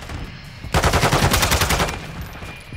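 A burst of rapid automatic fire from a Kastov 74u in Modern Warfare II rattles loud and close for about a second, then trails off into quieter game ambience.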